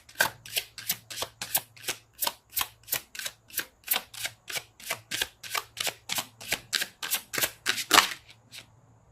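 Tarot cards are shuffled in a quick, even rhythm, about twenty crisp riffling bursts in a row, close and clear, with no talk over them.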